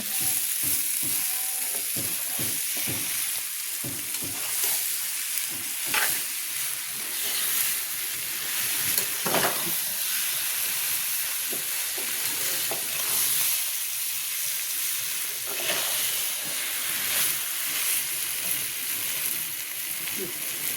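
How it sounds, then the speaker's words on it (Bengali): Taro leaves (kochu shak) stirred and fried in a pan, a steady close sizzle broken by repeated scraping strokes of the spoon, with no voices throughout. "কচু শাকটা রান্না করা ভালো করে ভাজা ভাজা হয়ে গেছে"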